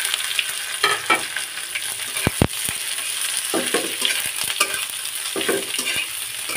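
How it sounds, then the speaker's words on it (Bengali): Nigella seeds and greens frying in hot oil, with a bright continuous sizzle, occasional crackles and a few sharp ladle knocks against the pan, loud and close, with no voices. "যেহেতু গরম তেলে কালো জিরাটা দিয়ে দিচ্ছি"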